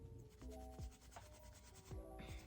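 Close, soft rubbing and scrubbing as eyeshadow is worked off a surface, a steady swishing texture with a few brief louder strokes, no talking.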